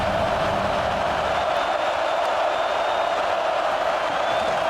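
A stadium crowd in EA Sports College Football 26 roars steadily on third down in a Miami versus Ohio State Cotton Bowl game, a dense, continuous wash of cheering with no pauses.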